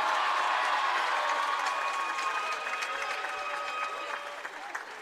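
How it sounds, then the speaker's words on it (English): Applause from a crowd in a school gymnasium honouring a senior boys' basketball player, dense sustained clapping that fades gradually across the clip, with faint cheering mixed in. "Let's have a round of applause for number 20,"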